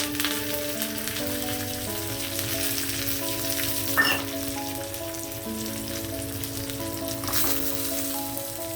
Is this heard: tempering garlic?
yes